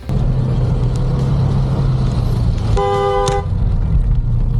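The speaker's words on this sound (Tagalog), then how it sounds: "makikita nyo po sa video na ito na itong si Boy Libag ang bumusina" A car horn sounds in a brief, loud honk of about half a second amid steady, close road and engine noise during a roadside encounter with police.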